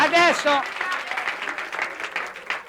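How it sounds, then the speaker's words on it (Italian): Studio audience applauding at an Italian satirical TV show from 1982, a broad wash of clapping rising after a brief burst of voice at the start and continuing steadily to the end. "un applauso al maniaco"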